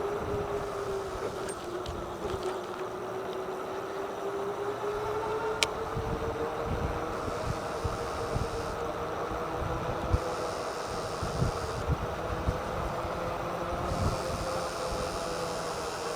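An Engwe LE20 long-range cargo e-bike's motor whines steadily and rises slightly in pitch while riding, under constant wind rumble and road noise.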